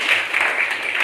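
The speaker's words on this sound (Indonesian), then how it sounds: "tepuk tangan" Brief burst of classroom applause, dense steady clapping from a group of students lasting about a second, fairly loud and close with no talk over it.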